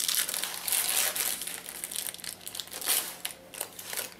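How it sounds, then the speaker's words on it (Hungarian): Baking paper crinkles and crackles as it is peeled away from the underside of a gluten- and lactose-free keto pizza, a close, papery rustle running throughout. "Leszedjük a papírt alóla. Nagyon könnyen le kell jöjjön."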